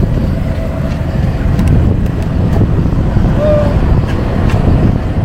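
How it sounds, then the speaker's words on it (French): Strong wind buffets the microphone during a bicycle ride through the Drôme countryside near Montélimar, a steady loud roar of gusts throughout with low rumbling and no clear speech. "Beaucoup de vent."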